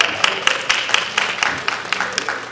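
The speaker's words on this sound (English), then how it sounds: "Give them a round of applause." Church congregation giving a round of applause, a steady patter of many hands clapping at moderate loudness, with no voices over it.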